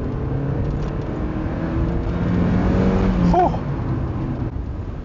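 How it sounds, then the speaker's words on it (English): A Fiat 124 Spider sports car engine hums and revs steadily in second gear from inside the cabin, pitch rising slightly as it accelerates, with a brief voice exclamation. "So the car certainly picks up the more you rev it"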